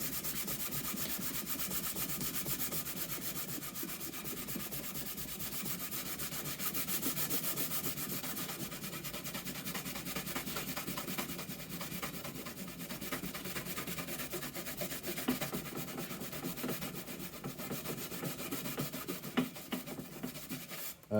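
Sandpaper rubbing and scraping at black paint on a motorcycle top box, a steady close scratchy friction that continues with little break throughout.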